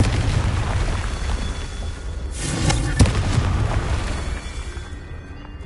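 The Confringo blasting spell cast in Hogwarts Legacy, a loud explosive burst that swells and fades over a couple of seconds amid steady game rumble.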